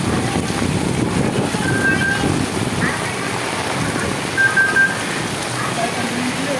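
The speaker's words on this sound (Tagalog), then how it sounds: "Lakas nga nitong ulan." Heavy Typhoon Carina rain and wind near the Tullahan River make a steady, dense roar, with a brief electronic beep now and then and a louder rumble at the start.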